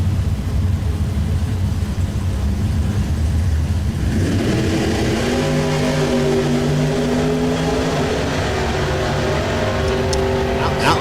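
A 93 Mustang and a 72 Chevrolet Chevelle launch side by side in a bracket drag race, with engines roaring and revving hard through rising gears as loud, steady crowd and track noise fills the background.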